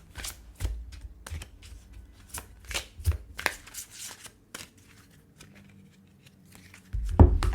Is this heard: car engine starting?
no